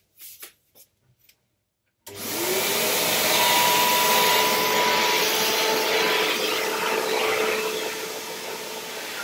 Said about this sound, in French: je vais aller passer l'aspirateur.